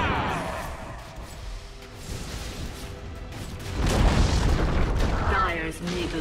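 A Dota 2 tower collapses with a heavy boom and crumbling rumble that peaks around four seconds, set within continuous in-game combat noise and effects.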